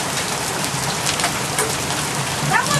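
Hail pelting the ground outdoors during a 2008 Wisconsin hailstorm, a dense continuous rattling patter like heavy rain, steady and close throughout with no voices.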